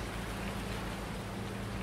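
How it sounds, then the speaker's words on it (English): Steady rain from the Farming Simulator 19 video game hisses as a dense, even wash with a low rumble underneath, constant and unbroken without any talk. "Still raining."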